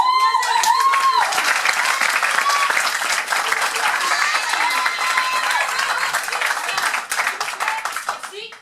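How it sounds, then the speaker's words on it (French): Theatre audience applauding and cheering ahead of a dance performance, a dense, steady wash of clapping with a few whoops and voices in the crowd, fading slightly toward the end. "je vous demande un tonnerre d'applaudissements"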